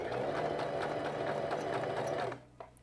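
A sewing machine runs steadily at close range while stitching a sweater neckline, a fast even whir for over two seconds that cuts off abruptly, followed by a small click.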